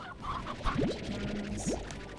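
Chickens in the Slime Rancher video game cluck in a few short, rising calls, close and clear over a steady background bed.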